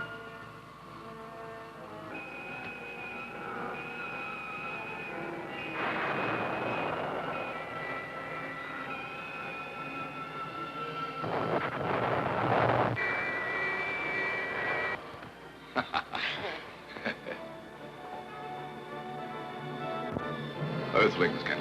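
Spaceship engine thrust sound effect in a comedy sketch, a continuous roaring drone that swells and shifts in bursts, with voices heard over it.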